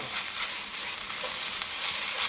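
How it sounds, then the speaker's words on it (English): Mapo tofu with sake cooks in a pan, giving a steady bright sizzle and bubbling hiss as the liquid boils off, close and continuous with no voices. "if you look at the cooking, you can kind of see some of the sake boiling out"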